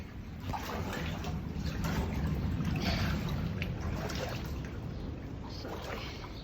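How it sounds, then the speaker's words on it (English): Sea water surges over a bank into a garden during Cyclone Gabrielle, making a steady, rushing roar of wind-driven water that rises and falls slightly in intensity, with no clear speech. "The sea is breached the bank and coming over"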